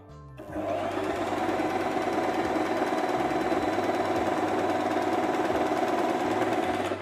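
Bindallı Vera BV150 sewing machine stitching fabric with upper thread tension set to four, starting up then running as a steady, fast mechanical whir and rapid needle rattle, close and continuous with no talking.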